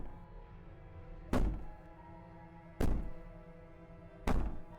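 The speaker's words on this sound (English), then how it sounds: "Maybe the banging and wailing will stop if you just don't pay attention to it" Heavy banging on a wall in the video game Slay the Princess: three loud, evenly spaced thuds, each with a short echoing decay, over a low droning ambience.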